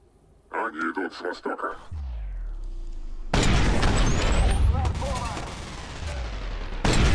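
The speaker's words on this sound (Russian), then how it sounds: "Фига себе, вы слышали этот взрыв?" A loud explosion in the video game Watch Dogs Bad Blood erupts suddenly after brief talk and a falling tone, followed by a long, rumbling, crackling roar and a second surge of blast noise near the end.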